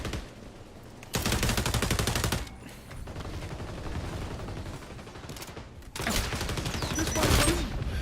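Light machine gun fire in the shooter XDefiant comes in long, rapid sustained bursts, loud and close, separated by quieter stretches with some talking over the gameplay.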